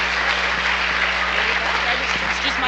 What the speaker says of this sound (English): So great applause for early educators.